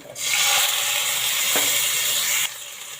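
Curry leaves, crushed garlic and tomato frying in a pan for mixed vegetable sambar: a steady, loud hiss of oil that sets in abruptly, runs with a brief stir scrape midway, then drops to a softer sizzle near the end.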